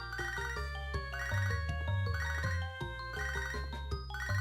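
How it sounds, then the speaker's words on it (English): A ringing phone chime from the Pokémon HeartGold video game, a bright, repeating melodic electronic tone over a steady in-game backing tune, loud and continuous with no talking. "I don't want to ever answer the phone when you call me."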